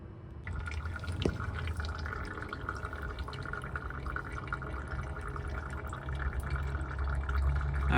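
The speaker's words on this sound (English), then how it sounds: "that is all the old fluid being pushed through the system and coming out of the rear bleeder" Old brake fluid dribbles steadily out of a car's rear brake bleeder into a drain container, a continuous close trickle with faint drips running throughout.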